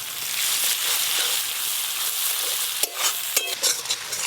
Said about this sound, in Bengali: বাটা মশলাগুলো দিয়ে ভালো করে কষিয়ে নেব